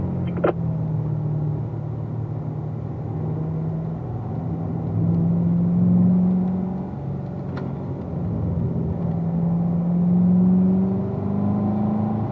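A race car on a track holds a steady, loud engine drone, with the pitch slowly rising and falling as the throttle comes on, continuous with no talk.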